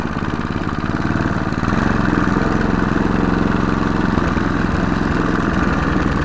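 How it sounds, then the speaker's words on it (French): A lawn mower engine idles steadily at low revs, a close, continuous putter with an even throbbing rhythm and no voices over it. "Là je suis au ralenti."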